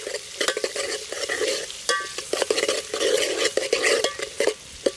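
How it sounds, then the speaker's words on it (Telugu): Onions being stirred into a hot frying pan with green chillies for a mutton head-bone curry, giving a steady loud sizzle broken by quick scraping strokes of the spoon against the pan, with no voices. "ఉల్లిగడ్డ వేసుకొని కలబెట్టుకోవాలి."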